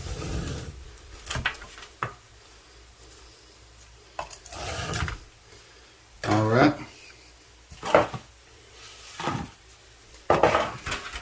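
Scraping a sand casting mold, a series of irregular scrapes, knocks and clattering bursts of a tool against the packed sand and flask, close and moderately loud with pauses between strokes.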